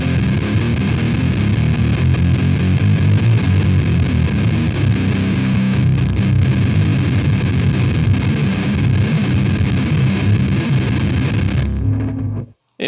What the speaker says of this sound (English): So having the distortion up full makes it way too muffled.